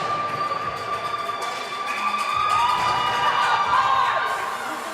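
Crowd at a youth hockey game between the LSL Lions and MN Blades in Mount Prospect, Illinois, cheering and shouting in an arena, a steady distant roar that swells slightly midway, with a faint whistle-like tone.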